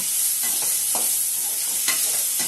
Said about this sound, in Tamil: நறுக்கி வச்ச தக்காளி இருக்கு இல்லையா, ஸோ அதை வந்து போட்டுட்டு நல்லா வதக்கி விடணும்